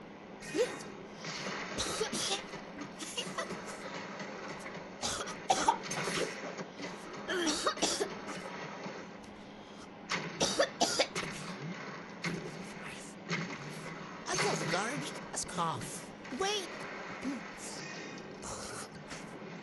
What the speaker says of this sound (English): I have a cold. I'm hiccuping, I'm sneezing, I'm coughing.